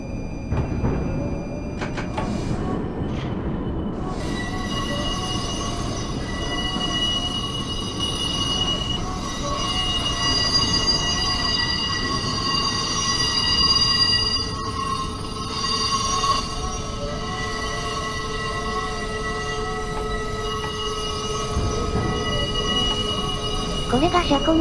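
A Tokyo Metro Ginza Line train in the BVE5 train simulator game rolls slowly over a junction toward the depot track, a steady rumble topped by long, sustained metallic wheel squeal that rises and lingers throughout.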